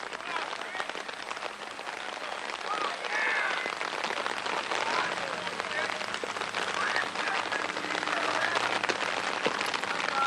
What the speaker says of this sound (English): Starting to get a little wet and muddy. with these rain showers over and over again.